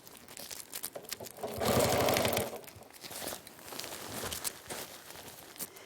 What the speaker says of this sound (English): I'm just going to turn it over and stitch it down